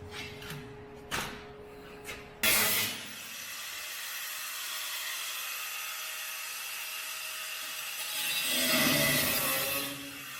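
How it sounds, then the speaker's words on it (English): Metal welds being cut with a power tool, a sustained grinding hiss that starts abruptly after a few short bursts and swells louder near the end, close up with no talking. "I'll cut this weld here and that weld there."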